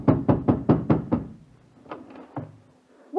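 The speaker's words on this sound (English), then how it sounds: "I hammered on my landlady's door and..." Hammering knocks on a landlady's door in a radio theatre drama: six loud, evenly spaced blows, a pause, then two more scattered knocks, close and sharp with no talk over them.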